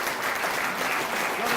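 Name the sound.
audience applause for Marvin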